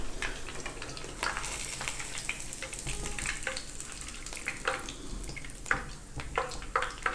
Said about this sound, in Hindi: इस तरह एक एक करके हम सारी फ़िश फ्राई करेंगे।